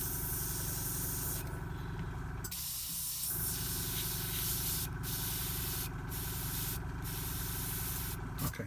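An airbrush sprays thinned paint with a steady, close hiss, cut by several short breaks as the trigger is released, over a continuous low compressor hum.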